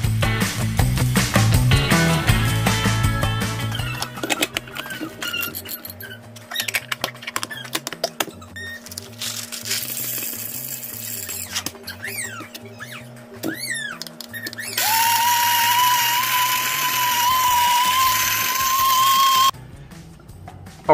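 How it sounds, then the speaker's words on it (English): Whole Blue Bottle espresso coffee beans run through a burr grinder: a loud, steady grinding whir fills most of the stretch, changing pitch near the end before cutting off, with no voices. "we're gonna get these over to the burr grinder and see how they break down."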